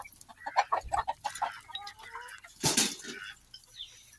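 Farmyard hens being herded into their coop cluck in short bursts, several close clucks and squawks in quick succession followed by a louder flurry of flapping or scuffling, with quiet gaps between.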